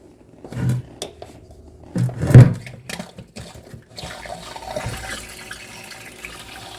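Water gushes and gurgles through a drain as it is flushed, in surging bursts followed by a steady rushing hiss, close and moderately loud with no talk.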